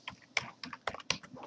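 Quick typing on a computer keyboard, a short run of close, distinct key taps at an irregular pace with nothing else heard.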